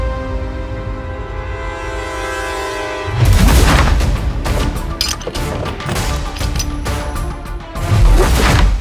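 Gunfire in a Hindi web series scene: after a calm stretch, a loud blast hits abruptly and is followed by rumbling crashes, then another strong burst near the end.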